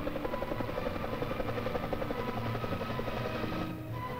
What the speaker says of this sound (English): new kind of aircraft. It was called a helicopter.